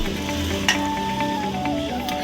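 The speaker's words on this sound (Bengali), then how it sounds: "এখন পুরোপুরি সিদ্ধ হয়ে যাওয়ার পর আমরা টক জলটা এর সাথে দিয়ে দিচ্ছি।" Tamarind sour water poured over prawns and boiled potatoes cooking in a pan, giving a steady close hiss and sizzle with a small clink of utensils partway through.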